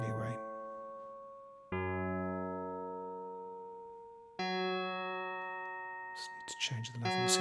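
Mixtikl FM synthesizer tones layered an octave apart ring out in three long sustained notes, each struck cleanly and slowly decaying, close and clear, with a brief burst of brighter sound near the end.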